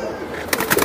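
Pigeons cooing at close range, a short burst of soft throaty calls rising near the end over faint background noise.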